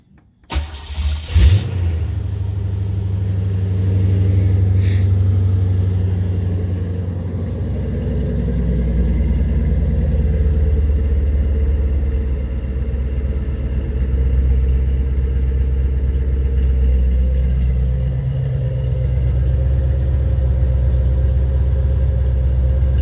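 A 1985 Corvette Z51 C4 with a homemade exhaust cranks and starts, then settles into a steady, loud, deep idle with a low rumble that holds throughout, no voices.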